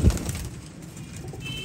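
Teddy pigeons with closed tails coo softly in a short, low burst near the start, followed by a quiet stretch of faint background noise.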